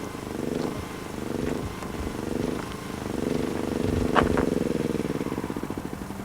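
Petrol generator running steadily, a continuous low rumbling engine drone with a rhythmic pulsing texture and a faint brief clatter near the end, close and fairly loud.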